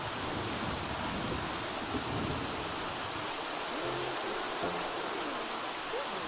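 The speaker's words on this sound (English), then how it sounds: "Oh, they're doing their homework together in the rain." Steady rain falls in The Sims 3 video game, a soft continuous hiss with faint low game sounds underneath and no talking.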